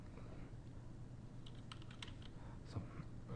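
Quiet, steady typing on a computer keyboard while entering a record into a database, with soft key clicks over a low hum and a few sharper taps near the end.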